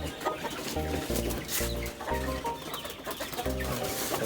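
Orpington laying hens cluck repeatedly close by, short rhythmic bursts of clucks over a busy background of other birds in a farmyard.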